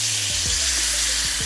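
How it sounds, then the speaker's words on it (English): Sauce sizzling steadily in a hot pan for rasta pasta, a loud continuous frying hiss with a few low thumps of the pan, no talking. "Now I am going to go ahead and put my sauce down in the hot"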